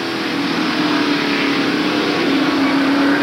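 Onboard engine of Tom Kendall's number 7 stock car during the 1993 Save Mart Supermarkets 300, a loud, steady mid-pitched roar held at high revs, close and continuous with a slight rise in pitch near the end.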